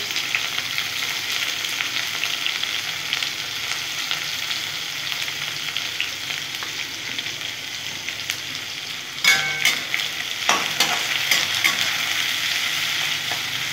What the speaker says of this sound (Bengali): পেঁয়াজ দিয়ে দিচ্ছি, সুন্দর লাল লাল করে আমি সমস্ত পেঁয়াজ আমি ভেজে নেব।